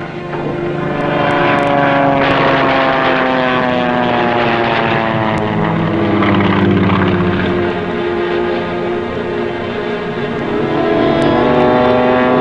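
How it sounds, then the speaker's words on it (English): A loud, steady propeller plane drones close overhead, its engine tone wavering slightly as it passes, with no voices. "did you notice some plane off the port beam"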